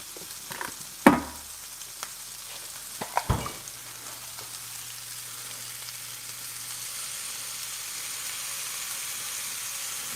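Steaks and onions with garlic frying in a pan, a steady soft sizzle running throughout after a couple of brief clanks and stirring knocks near the start.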